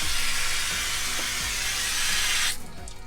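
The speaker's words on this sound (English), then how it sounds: "There's a tap and it works, and the water comes out under here" Water runs from a sink tap in a farmhouse under renovation in southern Spain, a close, loud, steady gushing hiss that cuts off abruptly near the end, leaving only a faint trickle.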